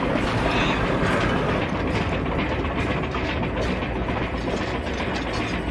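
A mechanical train in the Wild West video game Hard West 2 gives off a dense, continuous ratcheting rattle of gears and clanking parts, loud and close throughout, with no talk.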